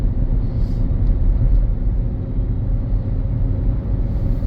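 Steady low road rumble and tire roar from inside a 2017 Nissan Rogue cruising on tires worn to about a quarter of their tread, continuous and even with no talk.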